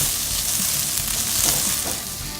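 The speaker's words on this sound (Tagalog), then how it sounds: "Yan, gisa-gisa lamang po yan." Onion and garlic sauté in hot oil for pork and chicken adobo, a steady loud sizzle with a few soft stirring scrapes and no voices.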